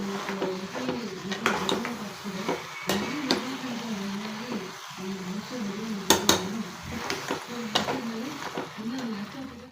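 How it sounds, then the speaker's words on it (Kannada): Ridge gourd and potato being stirred in a small pressure cooker, a spoon clinking and scraping against the metal in repeated strokes, close by, with someone talking over it throughout. "ಎಲ್ಲ ಮಿಕ್ಸ್ ಮಾಡಿದ್ದೀನಿ"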